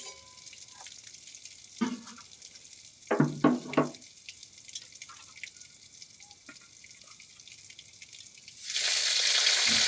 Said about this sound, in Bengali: এবার ফুলকপিগুলো আস্তে হালকা করে ভেজে নেব, কম আঁচ করে